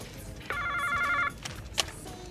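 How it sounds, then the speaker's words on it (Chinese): A telephone rings indoors in a shop, one continuous electronic ring burst lasting under a second, followed by faint background noise and a brief clatter. "喂，振威，你电话。"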